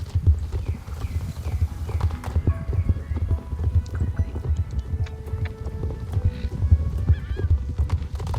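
A horse trots in Star Stable Online, its hooves making a steady, close clip-clop rhythm that continues throughout, accompanied by occasional soft game chimes.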